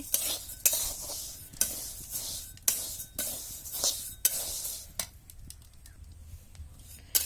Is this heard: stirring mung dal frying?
yes